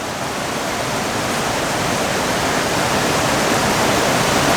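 Steady, loud roar of a waterfall on the Ingleton Waterfall Trail, dense broadband rushing water close by, constant with no breaks.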